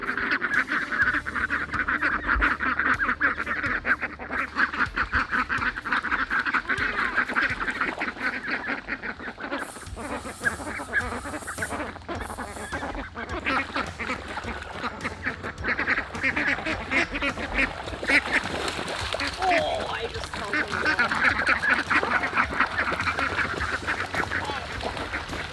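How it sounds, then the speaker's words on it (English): A flock of backyard ducks quacks and honks continuously, close and busy, as they are let out of their pen into a wet garden after rain; a person's voice is faintly mixed in. "come here, ducks"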